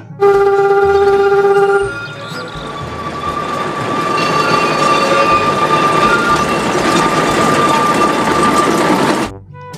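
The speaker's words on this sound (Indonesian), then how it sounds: "Di sini ada kereta Thomas" A Thomas toy train runs with a loud mechanical whirring rumble after a brief electronic whistle tone, continuing steadily until it stops suddenly.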